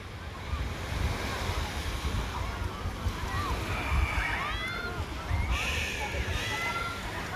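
Sea waves at Infanta, Quezon roll and wash steadily along the shore, a continuous broadband surf mixed with gusty wind noise, while faint voices and other background sounds drift in.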